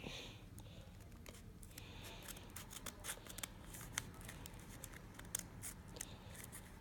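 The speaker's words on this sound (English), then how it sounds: "now we're going to cut about 1/4 of an inch from this edge over to about here" Scissors snipping through paper to shape rocket fins, a faint, close series of crisp irregular cuts over a low steady background hiss.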